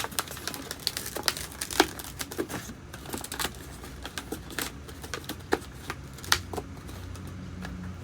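Latex balloons are twisted and bent into a sculpture up close, with busy rubbery squeaks, crinkles and sharp snapping clicks in an irregular stream and no voices.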